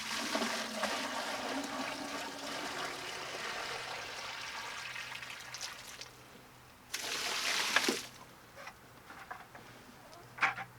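Water from a 5-gallon bucket pours steadily into a poultry waterer, a continuous splashing rush that eases into a gentler trickle, then a brief renewed gush and a few drips.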